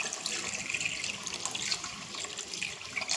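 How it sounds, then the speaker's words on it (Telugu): Tamarind juice pours into a simmering Telangana-style fish curry (chapala pulusu), a steady close splashing trickle of liquid lasting a few seconds, with no voices. "దీంట్లో ఇప్పుడు చింతపండు జ్యూస్ వేసుకుందాము."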